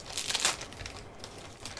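A small black plastic bag from a Funko box is torn open and crinkled by hand in a few quick, close rustling bursts that fade to light handling.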